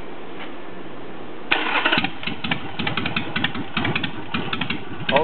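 A motorcycle fitted with Hooker Troublemakers exhaust pipes and a rejetted carburetor cranks and fires up after a quiet moment, settling into a loud, choppy, uneven idle with sharp popping pulses, close to the microphone.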